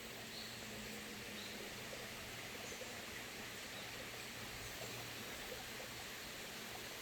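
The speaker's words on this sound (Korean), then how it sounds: "졸졸졸졸 흐르는 시냇물 소리도 들리고요" A babbling forest stream on a deck trail at Yumyeongsan native plant garden, with a constant soft, even trickle of flowing water and no voices.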